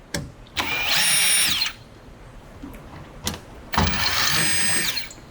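A power drill backs two screws out of the door lock bar on a GE washer: two loud, sustained whirring bursts of about a second each, with rising and falling pitch, separated by a quieter gap with small clicks.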